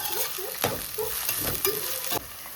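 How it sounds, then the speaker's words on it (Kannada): Food frying in a pan with a steady sizzle and occasional stirring scrapes, close and continuous for a few seconds. "ಇದೊಂದು ಸ್ವಲ್ಪ ಚೆನ್ನಾಗಿ ಫ್ರೈ ಮಾಡಬೇಕು"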